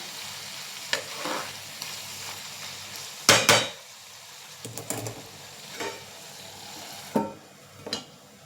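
Bitter gourd with jaggery steaming in a pan, a quiet hiss broken by a few sharp scrapes and clinks of a spoon stirring against the metal, with louder bursts of sizzle now and then.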